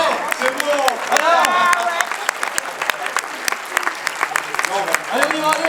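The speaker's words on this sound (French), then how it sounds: "applaudissez une dernière fois pour la prise." Premiere audience applauding a film take, steady loud clapping from a large crowd with sharp individual claps and some cheering voices mixed in, sustained for several seconds.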